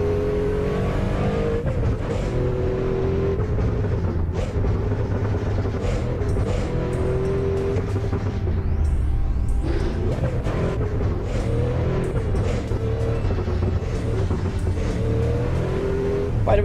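Cars race in the Assetto Corsa video game with continuous, loud engine drone, repeated revving, gear changes, and brief tire noise, all without speech.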